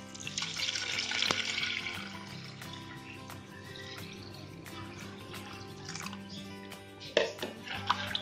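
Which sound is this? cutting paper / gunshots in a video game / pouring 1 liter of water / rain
pouring 1 liter of water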